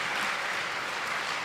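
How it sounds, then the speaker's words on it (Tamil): Audience at a Tamil public speech breaks into applause, dense even clapping heard from a distance, moderately faint and steady throughout with no voices over it. "நாம கூட கைத்தட்டி ரசிக்கலாம்."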